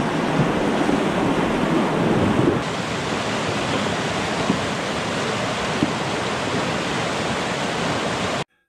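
A rushing glacial river in the mountains of Georgia gives a constant loud roar of churning water, dense and steady throughout with no pauses, then cuts off abruptly at the end.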